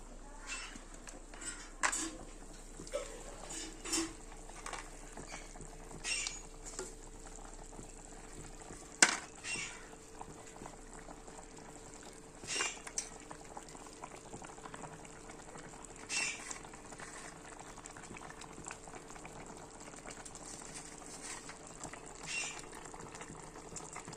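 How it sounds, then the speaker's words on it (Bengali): Fish curry broth bubbles at a steady simmer in a pan, a faint continuous seething with scattered soft pops and crackles and no talking. "দেখো ঝোল জাল হয়ে গেল।"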